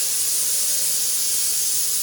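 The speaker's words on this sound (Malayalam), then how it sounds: "കുക്കർ വിസിലടിക്കുന്നുണ്ട്," A pressure cooker releasing steam in a kitchen, a loud continuous high hiss that holds steady the whole time, close and alone.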